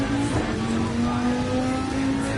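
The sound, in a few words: race car engine at full throttle, Nürburgring racing video game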